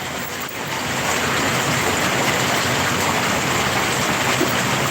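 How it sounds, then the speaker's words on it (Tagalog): Heavy typhoon rain pours steadily in a dense, constant wash of noise, loud and close with no break. "Ayan, humina na naman yung ulan, no?"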